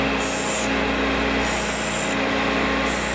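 Steady, loud whir of a grinding wheel sharpening a drill bit, with a gritty, rasping grind as the bit is worked against it, rising in short passes over a constant motor hum.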